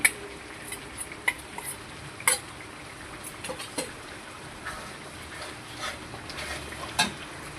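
Coriander and cumin soaked in hot water tipped into a sizzling pan, a low bubbling fry broken by scattered sharp clinks and scrapes of a spoon against the pan, no voices.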